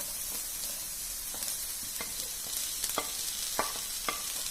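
Onion dropped into hot oil crackles with a continuous close sizzle, punctuated by a few sharp taps and scrapes of stirring in the pan.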